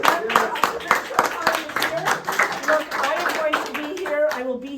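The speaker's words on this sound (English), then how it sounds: "let's give a big round of applause for Paulo Pereira" Clapping comes from a crowd welcoming Liberal candidate Paulo Pereira, uneven bursts of hands mixed with lively talk and voices close by.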